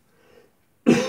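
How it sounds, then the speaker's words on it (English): A single sharp cough bursts out close by after a brief faint murmur, loud and abrupt against near silence. "I have a slight cough,"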